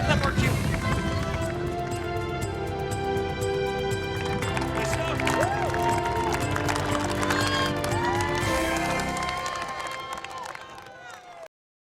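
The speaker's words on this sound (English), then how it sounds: "They scream and cheer and clap, and it is so loud." Marathon spectators lining the course cheer and clap for passing runners, a steady loud wash of crowd noise with applause and scattered shouts. Talk runs through it and it fades out near the end.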